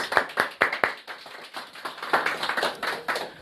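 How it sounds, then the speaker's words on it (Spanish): A church congregation claps for God, starting with a few sharp, separate hand claps and building into quicker, denser applause. "Démosle un aplauso a nuestro Dios."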